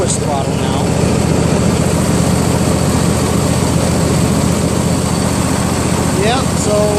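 A Husqvarna lawn tractor riding mower's engine idles at lowest throttle as a loud, constant low drone close by, while a voice talks faintly at the start and end.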